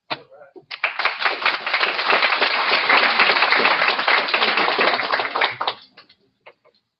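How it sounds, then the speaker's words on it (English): Audience applause at a general membership meeting, a dense round of clapping that rises quickly, holds steady for about five seconds, then fades out with a few last scattered claps. "I'm going to ask for one more round of applause for our CA and NAR directors"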